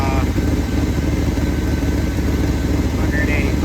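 A 1978 GMC crew cab truck engine idling with a steady, close, low rumbling pulse that holds even throughout, while someone talks over it.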